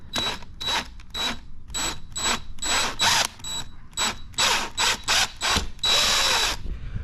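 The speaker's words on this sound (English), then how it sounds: "I'm gonna drill a hole through this plastic" A power drill boring through plastic on a 2022 Benelli 135 TNT motorcycle whirs in repeated short bursts, stopping and starting about a dozen times, close and loud, the last burst running longer.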